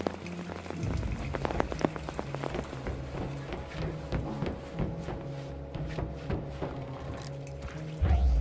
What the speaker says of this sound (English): I like how when the rain hits you.